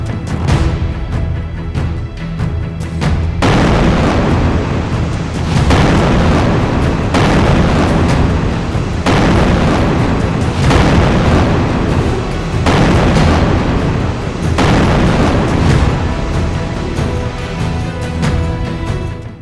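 Heavy bomb explosions in Gaza, a sustained series of loud, deep booming blasts rolling one into the next with long rumbling tails, dense and close throughout.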